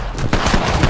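Titanfall 2 gunfire pounds out as a quick, loud, close burst of rapid shots, several sharp reports packed into about one second.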